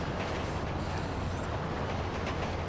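A train from the video game Grand Theft Auto V rumbles along with a steady, dense roar of rolling and rattling that holds constant throughout, with no voices over it.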